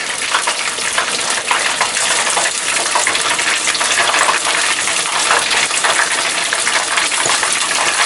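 Cod sizzles loudly and steadily in hot oil in a stock pot, a dense, continuous crackling hiss with spitting splashes throughout, close and with no voices.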